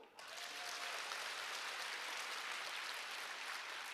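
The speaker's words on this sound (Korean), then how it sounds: "박수" Crowd clapping at a Korean sales seminar, a dense, even roar of applause that starts abruptly and stays steady and fairly distant throughout, with no voices.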